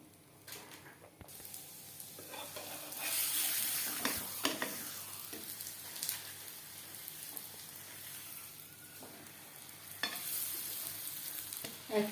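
Steady frying sizzle of spinach paratha in a hot pan over high-to-medium flame, a continuous hiss with occasional scraping and crackles, close and moderately quiet.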